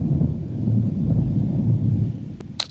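Thunder rolls through a storm as a continuous deep, loud rumble, with a couple of sharper cracks near the end and no voices.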